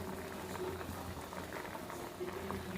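Chopped carrots boil in about 250 ml of water over a full flame, giving a steady, close bubbling and gentle patter that continues throughout without pause.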